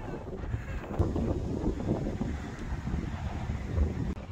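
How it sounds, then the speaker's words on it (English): Wind buffets the microphone in an open Texas field, a steady low roar with broadband rumble running throughout, loud and close with gusty swells and no clear talk. "It's pretty windy, huh?"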